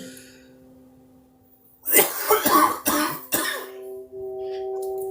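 A few harsh coughs in quick succession, close and loud, over a steady low electronic hum.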